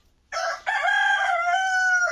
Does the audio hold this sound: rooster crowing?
yes